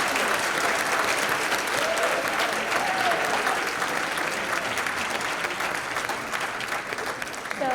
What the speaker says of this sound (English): if you'll all join me in giving the entire panel another round of applause.